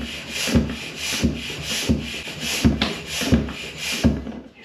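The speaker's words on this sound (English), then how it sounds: "Hear those little pops. Means the bead, the tire on the inside of the rim is going and seating itself." A tubeless bicycle tire being inflated as its bead seats on the rim, heard as a run of rhythmic bursts with sharp low knocks about every second over a steady hissing rush, close and moderately loud.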